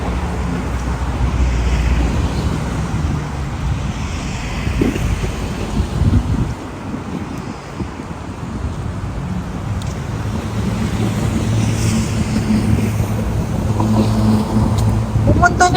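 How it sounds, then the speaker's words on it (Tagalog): Steady wind roars across the microphone in a broad low rush on a hot day in Singapore, dipping briefly midway before building again, with distant outdoor ambience underneath. "Mainit pero mahangin."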